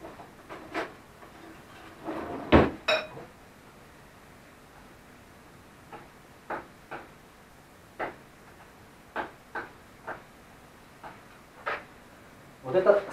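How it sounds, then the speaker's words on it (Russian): Old silverware cutlery being handled, producing a series of sharp, bright metallic clinks and taps, spaced irregularly and fairly close, over a quiet background with a few louder knocks. "Столовое серебро"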